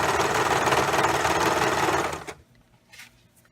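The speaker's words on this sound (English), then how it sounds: "This is using a serger" A serger stitching binding onto fabric runs loud and fast with a dense mechanical whir for about two seconds, then stops abruptly, leaving near silence with a faint handling sound.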